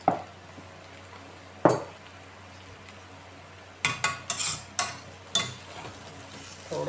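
A spoon stirring bitter gourd curry with added salt in a pan: sparse scraping and clinking strokes, a couple of isolated knocks and then a quicker cluster of clatters against the metal, over a faint steady background hiss.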